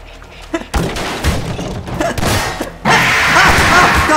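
Gunfire in a Garry's Mod horror map comes after a quiet start: a sudden loud volley of shots and impacts, then a sustained noisy burst with warbling tones, intense and close.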